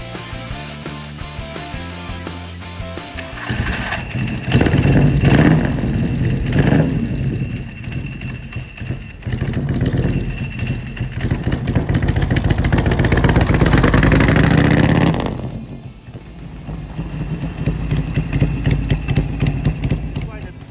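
Harley-Davidson Softail motorcycle with an Evo V-twin engine running, its rumble swelling in loud revving surges and easing back between them, with someone talking over it.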